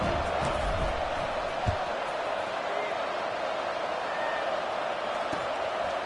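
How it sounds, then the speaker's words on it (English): Large football stadium crowd at a UCLA college game keeps up a loud, steady buzzing roar after a score, a dense wash of many voices with a few brief thumps and shouts rising out of it. "this crowd is buzzing after that last score"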